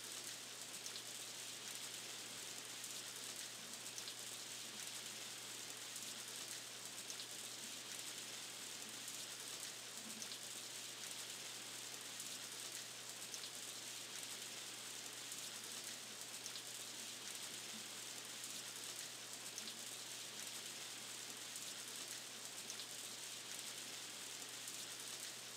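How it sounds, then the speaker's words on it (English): Rain falls steadily in the farming video game Harvest Moon: A Wonderful Life, a soft, even hiss that stays constant with no talk over it. "If it's just raining?"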